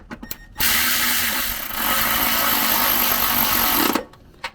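Tightening a brake line fitting with a 10 mm wrench on a Tesla, a steady whirring, grinding mechanical sound lasting about three seconds between quiet gaps, close and fairly loud.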